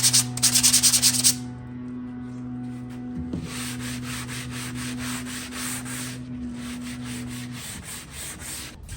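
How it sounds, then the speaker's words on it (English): Sandpaper is rubbed by hand over a wrecked mid-century modern wooden furniture piece being refinished, making rhythmic back-and-forth scratchy strokes, close and moderately loud, with a low hum in the background. "I'll come back in with hand sanding"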